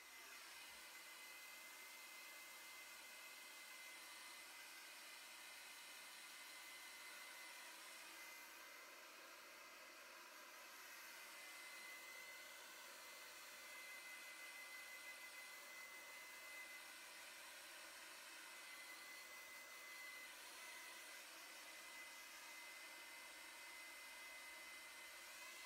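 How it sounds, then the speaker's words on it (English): A hair dryer blows steadily on a short clipper cut during a men's styling session, a continuous broadband whoosh holding close and even for the whole stretch with no talking over it. "just blow dry it real quick"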